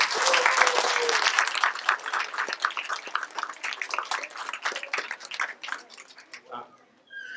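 Applause from the audience at a community science fair rises to a dense burst of clapping. It thins gradually over several seconds before fading out near the end. A few voices come through.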